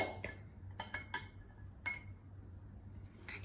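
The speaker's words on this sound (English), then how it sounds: "And now I'm going to mix until the salt dissolves into" A spoon stirs salt into water in a glass, giving a few sharp, irregular clinks against the glass, close but quiet, separated by near silence.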